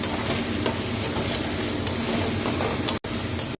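Raisins sizzling in hot oil in a pan while dal is being cooked, a steady close frying hiss with light stirring scrapes and two brief dropouts near the end.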